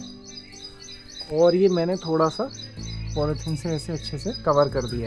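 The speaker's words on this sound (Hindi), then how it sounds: "चिड़िया वहाँ बोल रही है काफ़ी।" A small bird chirps near its nest on a rural morning with a cow and calf nearby: repeated high tweets run steadily throughout, close and clear, under someone talking.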